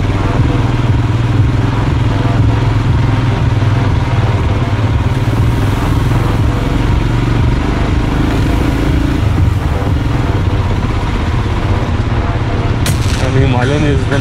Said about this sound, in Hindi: And Himalayan is one of the best bikes for such terrain.